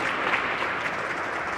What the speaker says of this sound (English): I hear a lot of clapping